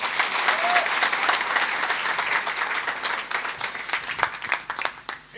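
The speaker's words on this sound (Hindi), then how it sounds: "तालियां हो जाए मैडम के लिए" Audience applause for a woman at a direct-selling event, a full burst of clapping that thins into fewer, sharper individual claps toward the end.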